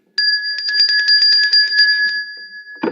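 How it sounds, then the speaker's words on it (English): A quiz-show bell sounding for a correct answer, ringing as a rapid, loud run of repeated electronic strikes on a steady two-tone pitch, followed by a short bump of noise at the end. "Bell ring for Chiaffi."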